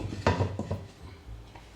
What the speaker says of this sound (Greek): σβήνω το φούρνο, κλείνω τη γάστρα